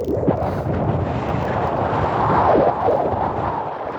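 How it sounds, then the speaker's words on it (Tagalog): Strong wind gusts past the microphone at an outdoor market, a loud, continuous low buffeting roar that swells slightly near the end, with no voices. "Mahangin guys, mahangin."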